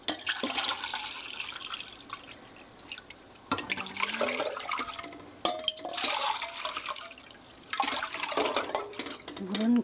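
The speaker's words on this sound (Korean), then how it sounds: "물은 거의 1리터 정도 넣어주면 되겠어요." Water is poured from a tap into a pot for boiling fettuccine, coming in several separate bursts of splashing and running water, with quieter gaps and some clatter of the pot between them.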